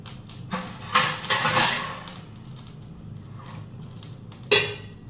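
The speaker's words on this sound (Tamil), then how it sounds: "இப்போ ஒரு மூடி போட்டு நம்ம மூடி வச்சிடலாம்" A lid is set on a pot of white pumpkin sambar with a few metallic clanks and scrapes, close by, followed later by one more sharp clink.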